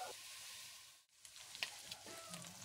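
Quiet sizzling of pork frying in a pan with a little salt, a steady hiss broken by a brief pause and small pops and stirring scrapes.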